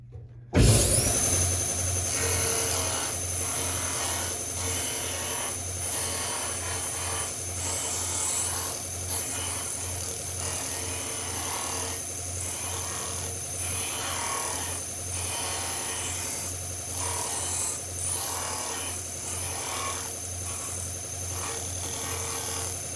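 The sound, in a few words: hand sanding wood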